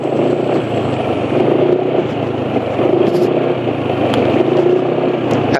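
A motorcycle engine running on diesel SAE 40 oil revs in a few surges, then the revs drop back toward a smooth idle, loud and close with light mechanical clatter and no talk.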